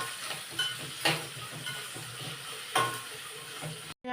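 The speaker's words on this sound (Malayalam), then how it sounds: "ഇനി ആ എണ്ണയിലോട്ട് തന്നെ നമുക്ക് മാങ്ങ ഇടാം" Raw mango pieces fry in hot oil with a steady close sizzle, marked by a few louder crackling bursts as they are stirred, and no talking.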